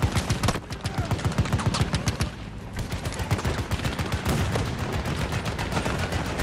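Gunfire from the video game Battlefield 2042, dense rapid bursts of automatic shots rattling almost continuously, loud and close, with a short lull near the middle.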